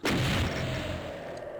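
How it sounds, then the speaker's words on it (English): A single loud, close barrel explosion in Doom 2, a sharp boom at the start that rumbles and slowly fades, followed by a faint tail of game noise. "It's a barrel explosion, death exit thing."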